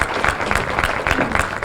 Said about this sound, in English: Let's have a round of applause for Ms.